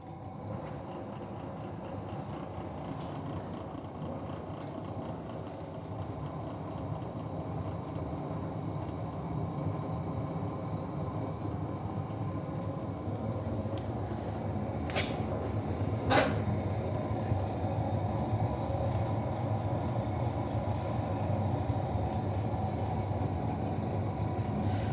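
Waste oil heater burner roaring steadily with its blower running, a constant broadband rumble filling the whole stretch with a few faint clicks and knocks over the top.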